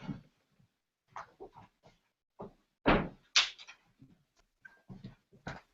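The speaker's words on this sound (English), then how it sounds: "That was a strong wind which just closed one of my doors." A strong gust of wind blows a door shut indoors. A scattering of knocks and rattles builds to a couple of loud bangs near the middle, followed by lighter clatters, all close by.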